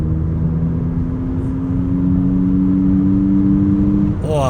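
A smart #1 Brabus electric car plays a synthetic engine sound imitating a 3.0-litre twin-turbo V6, a steady close hum with sustained tonal whine, ending in a quick rising sweep as it accelerates.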